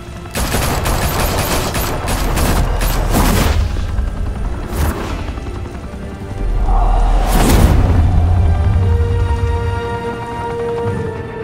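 Sustained gunfire and fusillade bursts in the Batman Telltale Series video game, loud and dense volleys with booming impacts and whooshes, continuing without pause across the scene.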